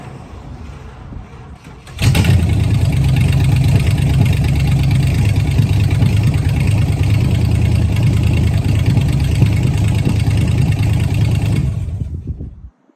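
A 1966 Dodge Charger V8 with no exhaust fitted starts up after a quiet moment and idles loud and raw at close range, with a steady rumble for about ten seconds before cutting off.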